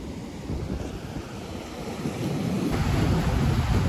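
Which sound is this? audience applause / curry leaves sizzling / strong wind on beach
strong wind on beach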